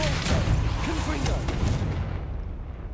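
A Confringo fire spell blasting in Hogwarts Legacy, a loud rumbling burst of explosive booms with short sharp cracks over the first half before it fades away, with a voice speaking over it.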